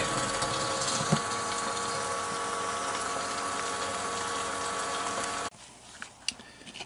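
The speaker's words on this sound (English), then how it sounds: "seems to be pumping it out pretty well here" A pump drawing gasoline out of the tank of a 1969 El Camino, a loud, steady whirring and gushing flow that cuts off abruptly near the end, leaving a quieter background with a few small clicks.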